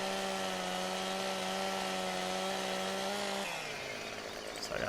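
In Farming Simulator 2015, a chainsaw bites into timber with a loud, steady buzzing whine that drops in pitch and slows as the cut finishes near the end.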